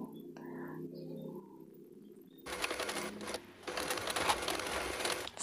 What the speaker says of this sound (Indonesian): sisi satunya juga kita jahit